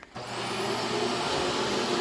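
A Quantum upright water-filtration vacuum cleaner starts after a brief pause and holds a loud, steady whirring roar with a high motor whine, close up and with no talking.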